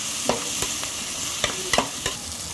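Prawns sizzle steadily in a hot pan while a utensil scrapes and stirs in several quick strokes, close and fairly loud.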